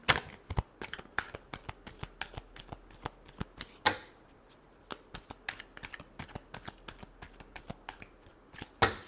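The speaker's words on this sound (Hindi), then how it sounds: "Last shuffle." Tarot cards are shuffled by hand in quick, crisp riffling bursts with short pauses between, close and fairly quiet with no talking.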